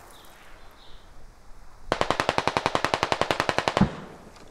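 Automatic gunfire in the Squad video game rings out as a rapid, evenly spaced burst of about twenty loud shots lasting roughly two seconds, following quieter ambient noise.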